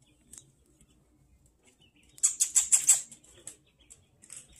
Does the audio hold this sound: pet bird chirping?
yes